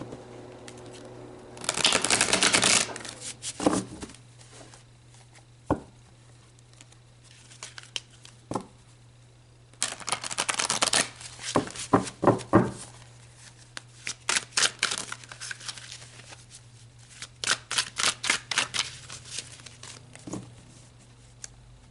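Tarot cards are shuffled by hand in several bursts of riffling and flicking, close and fairly crisp, separated by quiet pauses with occasional single taps, over a low steady hum.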